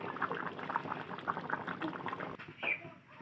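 Hilsa fish curry with aubergine and potato simmers in a pot, giving a faint, close bubbling with scattered soft pops and gurgles.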